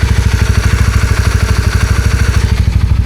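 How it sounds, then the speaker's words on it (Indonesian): A motorcycle engine idles close up on a long solo ride across Borneo, running with a steady, even low thumping pulse and light mechanical clatter, loud and alone without speech. "Overall suara mesin masih enak."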